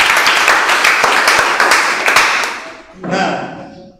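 Hand clapping from a classroom group, a brisk burst of claps that fades out after a few seconds, followed by a short spoken voice.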